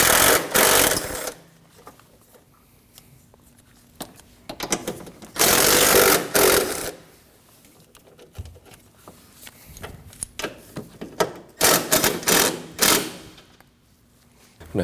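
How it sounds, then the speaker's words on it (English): A power tool runs in short whirring bursts while removing the 13mm strut bolts on a Ford Edge front strut, with quieter gaps between runs. "Now we can go ahead and remove our three 13mm bolts for the strut."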